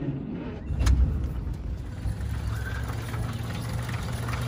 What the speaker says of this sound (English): It has never failed to start, as you'll see in the video.